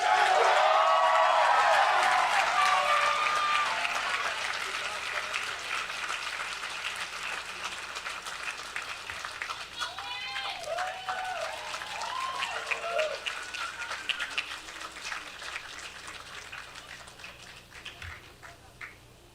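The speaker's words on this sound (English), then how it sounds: "let's have a round of applause and congratulations" Sustained audience applause in a hall at a medical school white coat ceremony, loud at first and slowly fading over many seconds, with a few cheers and whoops mixed into the clapping.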